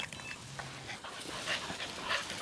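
Faint dog sounds, soft whimpers and panting, close by over outdoor background noise during a sharptail grouse and Hungarian partridge hunt.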